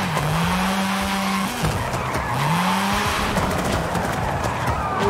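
Mazda RX7 drifting in Forza Horizon 5, loud tire squeal with pitch-sliding screeches over a steady engine roar, continuous and close throughout.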